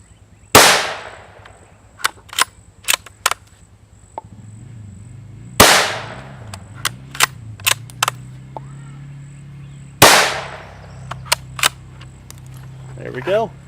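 Three sharp, loud shots from a .22 long rifle firing V-Max polymer-tipped hollow point bullets, widely spaced about five seconds apart, each with a short decay, followed by clicks and handling noise in between.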